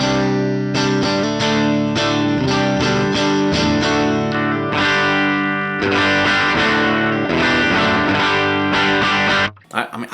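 An electric guitar runs through an amp model on a Line 6 HX Stomp, playing distorted chords with a thick, saturated tone that sustains for nearly ten seconds before cutting off abruptly.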